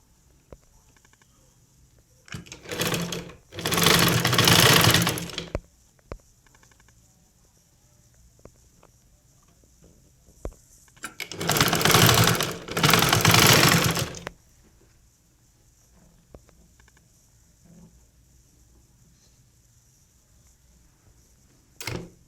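Electric sewing machine stitching a front-slit churidar top, running in two loud bursts of about three seconds each, with quiet pauses between and no talk.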